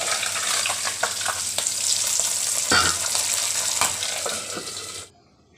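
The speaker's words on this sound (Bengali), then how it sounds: "কড়াতে তেল দিয়ে সব মাছগুলো ভেজে নেব" Salted, turmeric-coated pabda fish fry in hot oil in a kadai, giving a loud, busy crackle and spitting hiss with occasional clatters, cutting off abruptly near the end.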